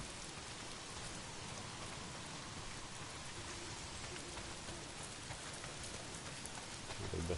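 Steady rain falls in the video game Days Gone, a dense, even hiss of drops across all pitches that stays constant throughout, with a slight swell at the end and no speech over it.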